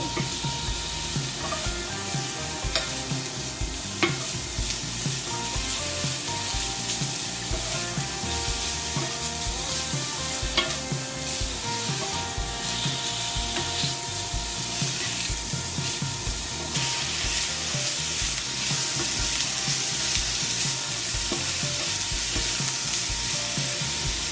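Mushrooms cooking in oil in a pan, tossed to coat, give a continuous close hissing sizzle with occasional soft scrapes and clicks of movement, steady and even for the whole stretch without speech.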